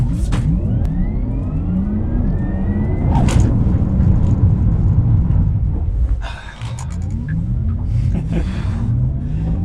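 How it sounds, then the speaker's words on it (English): A 2021 Porsche Taycan Turbo electric car, 670 hp, driven flat out on a road, with loud steady drive and tyre rumble, rising whine sweeps under acceleration, a brief dip as it brakes hard, then the surge building again. "We'll go full on the brake, full on the gas."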